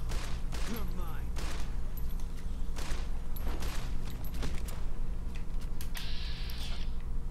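Gunfire in the video game Fallout: New Vegas, a few sharp shots and short bursts spread through the clip over a low, steady game hum, with some talking mixed in.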